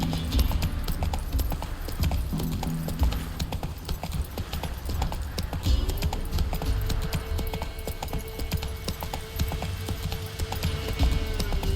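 Hooves of the horse Roach clip-clop in The Witcher 3: Wild Hunt, a steady rhythmic trot of close, distinct hoofbeats continuing for the whole stretch, with game ambience and a faint tone underneath.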